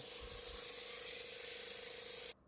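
Incredible Suds cleaning solution sprays in one continuous close hiss onto a vehicle's muddy wheel wells, with a steady tonal pump whine underneath, stopping abruptly near the end.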